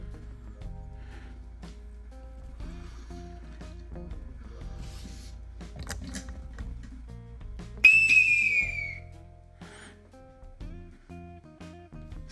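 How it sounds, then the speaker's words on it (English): A Prusa Mini Plus 3D printer gives a sharp, piercing whistle sweeping downward once near the middle, loud and brief, over faint mechanical clicks and hum. "And the whistle, extremely loud."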